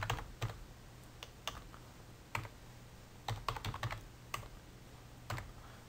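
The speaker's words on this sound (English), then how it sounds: "And type in your name." Keys clatter on a computer keyboard as a name is typed, scattered quick taps and small bursts over a few seconds, quiet and close in a hushed room with no talking.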